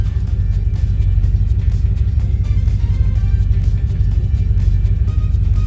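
A carbureted-style V8 car engine idles after a Holley fuel injection fix, a loud, steady, lumpy low rumble with a regular loping pulse, close up and alone.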